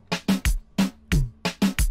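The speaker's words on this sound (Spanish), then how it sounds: "lo que aumenta aquí básicamente es el dembow" A punchy dembow drum pattern made with FL Studio plugins: deep kicks and crisp snare hits in the familiar syncopated reggaeton rhythm, loud and up close.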